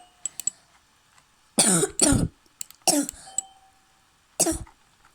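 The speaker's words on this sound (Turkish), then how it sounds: "Bakın öksürüyorum." A person coughs several times close up, short harsh bursts in two or three clusters, with faint clicks and quiet background in between.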